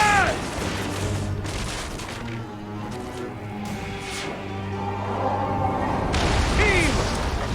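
Ship weapons fire during a naval battle in Assassin's Creed Origins on Xbox Series X, with repeated booming volleys and crashes under loud shouting crew voices.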